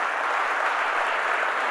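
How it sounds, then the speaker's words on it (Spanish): A church congregation applauding during a Sunday morning service, a steady wash of clapping filling the whole moment, evenly loud with no distinct voices. "Dale un fuerte aplauso a Jesucristo"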